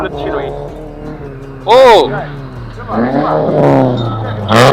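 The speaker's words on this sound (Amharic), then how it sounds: "ያሁኑ መኪና ያለፈው ቮልስ ነው።" A Volkswagen race car roars past at speed during a motor sport race near Addis Ababa, its engine note rising and sweeping as it passes close by, with people talking throughout.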